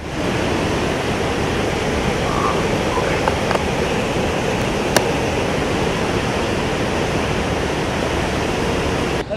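Water roars through the 22 open gates of the Tunga dam at Gajanur, Shivamogga, as a loud, constant broadband rush with no breaks.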